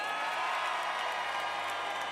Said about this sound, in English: And if you thought Elmley School were the best, cheer now!